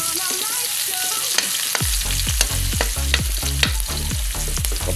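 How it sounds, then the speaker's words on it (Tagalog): Garlic and onion sautéing in hot oil for native chicken adobo, a steady close sizzle with repeated rhythmic scrapes of a utensil stirring the pan, loud and alone. "Papulahin natin yung bawang at sibuyas guys."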